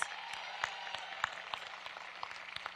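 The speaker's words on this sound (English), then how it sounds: "Please give them a big round of applause." Audience applause at the 2012 State of the District Showcase, a school district event in Austin. Scattered, fairly soft individual claps pop out over a thin, steady patter from a hall full of people, with no talking.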